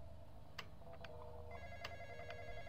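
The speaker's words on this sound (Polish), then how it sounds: "Kurczę, znowu cały czas telefon dzwoni." A telephone rings in Roblox The Intruder, a steady repeating electronic ring that sounds moderately loud against a background hum, with short clicks scattered through it.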